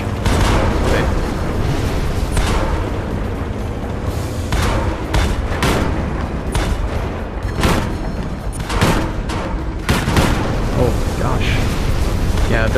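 A tank cannon in the Tanks of War video game fires in rapid succession, with repeated booming blasts over continuous battle rumble and a speaking voice.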